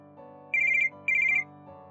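A telephone rings indoors during a family argument, two short electronic trilling bursts separated by a brief pause, loud and close over a quiet room hum.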